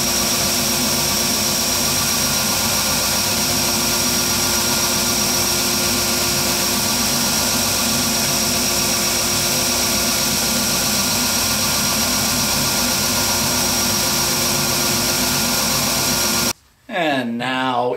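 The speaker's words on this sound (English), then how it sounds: "I'm gonna round off the corners over on the belt sander" A belt sander runs loud and continuous, rounding off the corners of a chalkboard panel, a steady dense whine that holds unbroken for most of the clip before cutting off abruptly near the end.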